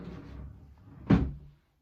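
A drawer is pulled open in a bedroom with a single short wooden thump and scrape midway through, after a quiet stretch of low room noise.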